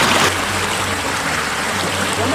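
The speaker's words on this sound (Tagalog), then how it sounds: "medyo hina na po yung agos ng tubig" Weakening water flow at a fishpond trickles in a steady, close stream, with a low rumble running underneath.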